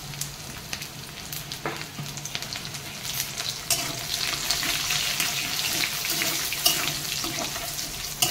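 Cardamom, cumin, dried chili and chopped garlic frying in hot oil, a steady crackling sizzle with occasional stirring clatter, close and moderately loud.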